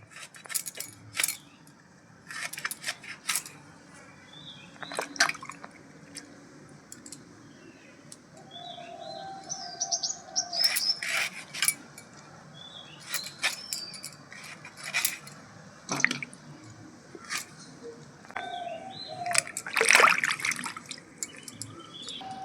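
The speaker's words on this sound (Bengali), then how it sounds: "আমগুলো দেখুন আমি এভাবে পিস করে নিয়েছি হলুদ জলে আমি দিয়ে দিচ্ছি" Raw mango pieces dropped into turmeric water for a sour pickle, giving scattered watery splashes and small clinks over a quiet room background, several brief bursts spread through the stretch.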